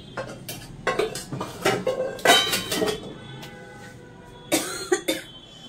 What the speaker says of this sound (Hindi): देखो बर्तन भी धोने हैं